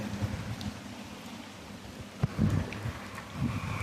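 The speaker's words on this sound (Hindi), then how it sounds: "लो जी बारिश होर तेज़ हो गई है," Dense, heavy rainfall with a rumbling low wash and occasional louder spatters and gusts, no voices.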